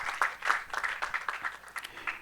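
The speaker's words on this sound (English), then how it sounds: "Shall we please welcome him with a round of applause?" An audience at a corporate governance panel discussion in Ghana gives a short round of applause, quick scattered claps at moderate distance, fairly soft overall.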